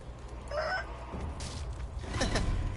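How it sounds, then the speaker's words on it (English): Roosters in Sekiro cluck and squawk in a few short, scattered bursts at moderate distance over a low, continuous game background hum, with no talking. "Here we have some crazy ass roosters."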